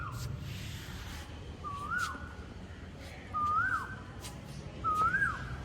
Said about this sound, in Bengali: বিকালবেলা এই কোকিলের ডাক শুনতে এত ভালো লাগে